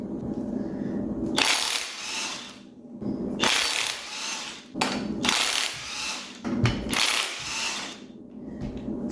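A ratchet is used to remove the flywheel from a 1.8 Mazda Miata engine, making bursts of rapid clicking and whirring in four separate runs broken by short pauses.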